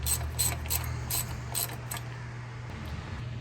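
A ratchet tightens a nut on a transmission line fitting for a 4L60E transmission in a C10 pickup. Quick bursts of close clicking repeat in a steady rhythm, then thin out over a low background hum.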